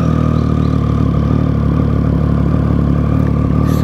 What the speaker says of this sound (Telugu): But will do a cooled start. మనలో అయితే ఎస్సీ ప్రాజెక్ట్ ఎగ్జాస్ట్ ఉంది.